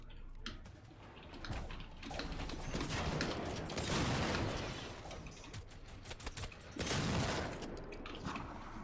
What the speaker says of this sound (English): And there's all the rockets coming.